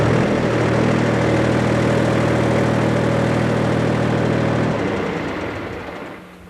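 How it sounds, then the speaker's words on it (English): A 1989 Case IH 200 series tractor with a mid mount mower drones loudly at steady engine speed, then the hum drops and fades out over the last couple of seconds, with no talking. "Let's raise the mower and see if it comes to the upstops and the hitch raises and cancels."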